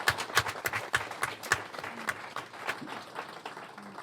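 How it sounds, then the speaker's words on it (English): Audience at a debate event applauding a panel, a short burst of scattered, fairly faint hand claps that thins out within a few seconds. "So give them a resounding applause."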